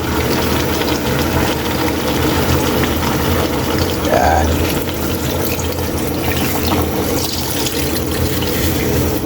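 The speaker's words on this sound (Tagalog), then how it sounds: "ilagay na natin kay Eli yung pangalawang piga para lumambot na yan" Second-press coconut milk is poured into a pork stew, giving a steady, close rush of liquid with a low background hum throughout.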